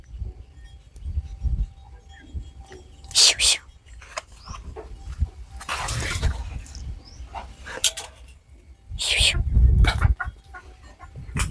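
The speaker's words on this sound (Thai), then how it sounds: "ไก่มันเข้ามา" Chickens clucking and squawking close by in a rural yard, several sharp bursts scattered among quieter stretches, with low background noise and occasional sounds of people nearby.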